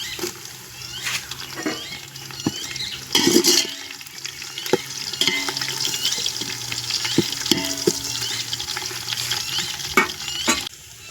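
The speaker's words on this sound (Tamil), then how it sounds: "வெங்காயம் நல்லா வதங்கட்டும் ஒரு நாலஞ்சு பச்சை மிளகா கட் பண்ணி வச்சுருக்கேன் அதை போட்டுக்கலாம்" Onions and green chilies sizzle and fry in a pan while being stirred, with a steady close hiss, scattered crackles and a few louder scraping stirs, no voices.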